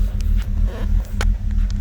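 A BMW E93 528i idles roughly with a low, steady hum and light irregular ticking, close and fairly loud.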